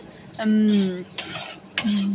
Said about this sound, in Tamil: நல்லா ஸ்டர் பண்ணி விட்டு நல்லா கொதிக்க விடுங்க